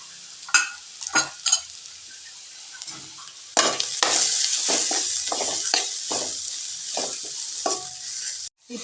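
Onions frying in a pan give a continuous loud sizzle, with a spoon scraping and stirring in quick strokes, close up and with no voices.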